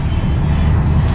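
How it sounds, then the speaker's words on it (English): A large jet airliner, a Boeing 777, roars overhead above foggy Boston Harbor, a loud steady engine rumble heard from a sailboat with no talk. "Airplane."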